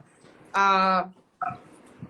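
A mixed-breed caramel-coloured mutt dog lets out one loud, drawn-out whining bark or yelp close by, followed by a shorter, fainter second yelp, with quiet room noise in between.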